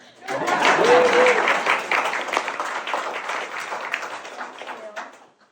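Audience at a donor recognition celebration breaks into applause, broadband clapping swelling quickly, holding strong for several seconds, then thinning and fading out near the end.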